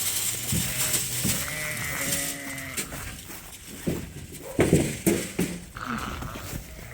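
Pregnant ewes on a sheep farm bleat and call near a grain trough, with rams penned farther off, making overlapping baas and low calls against steady farmyard background noise.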